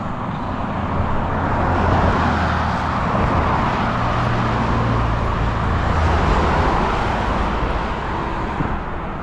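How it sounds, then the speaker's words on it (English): Steady, loud road traffic streams past on a bridge over Cann River, a continuous broadband roar with low engine rumble from cars and heavier vehicles, no gaps between passing vehicles. "plenty of traffic heading back towards Melbourne"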